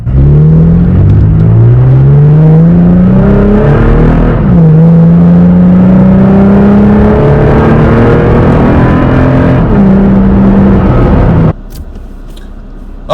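Toyota Tacoma TRD pickup fitted with a cold air intake pulls away from a stop and climbs through the gears, its loud engine note rising and dropping at each shift before cutting off near the end.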